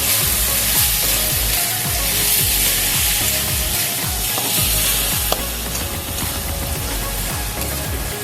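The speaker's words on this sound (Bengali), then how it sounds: "মাছটা আমি খুব ভালো করে কষিয়ে নিয়েছি" Boiled katla fish sautéing in a hot pan gives a loud, steady sizzle and crackle for the whole stretch, with no voices over it.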